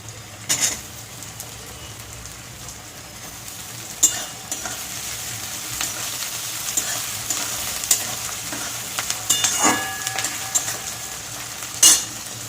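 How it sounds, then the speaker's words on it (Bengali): Dried fish tossed into onions in a pan sizzles steadily while a utensil stirs and scrapes, with sharp clinks of metal against the pan now and then. "আমি এই পেঁয়াজটার মধ্যে শুটকি মাছটা দিয়ে দেবো।"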